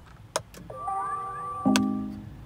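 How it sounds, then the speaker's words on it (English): A BMW i3 electric car plays its start-up confirmation chime after the start-stop button is pressed: a couple of soft clicks, then a gliding rising electronic tone that settles into a sustained chord and fades, heard close inside the cabin. "You press the start-stop button, and it makes a bit of an odd sound."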